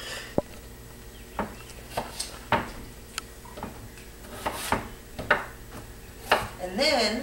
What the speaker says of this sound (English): So I cut the potato in half longwise, cut it in half again